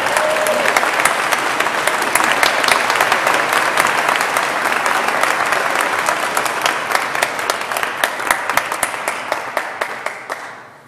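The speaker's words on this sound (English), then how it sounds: "Please join me in welcoming Professor Kristi Erdal." An audience bursts into sustained applause welcoming a professor to the stage, dense steady clapping from a sizable crowd that holds for about ten seconds before gradually thinning toward the end.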